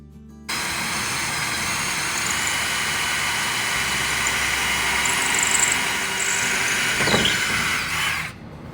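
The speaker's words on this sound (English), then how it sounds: "we're pre-drilling the holes so that the wood doesn't crack, and it's easier for the screw to go in" A power drill runs steadily for several seconds, pre-drilling screw holes in wood while an old bed frame is turned into a farmhouse bench. The whir stays loud and close throughout and cuts off near the end.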